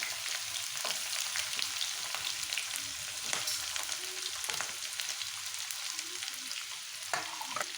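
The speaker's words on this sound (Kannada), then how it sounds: "ಈಗ ಎಣ್ಣೆ ಕಾದಿದೆ ಈಗ ನಾವು ಸಾಸಿವೆ ಹಾಕ್ಕೊತಾ ಇದ್ದೀವಿ ಹಂಗೆ ಈರುಳ್ಳಿ ಈರುಳ್ಳಿ ಹಾಕ್ಕೊತಾ ಇದ್ದೀವಿ" Mustard seeds and chopped onions fry in hot oil for vangibath, a dense, steady sizzle with crackles and occasional spoon stirs, close and continuous without any talk.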